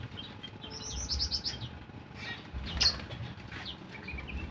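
Many caged birds, including magpie robins and similar songbirds, chirp and trill at a busy bird market in Tulang Bawang, Lampung, with overlapping near calls and a brief flutter of wings.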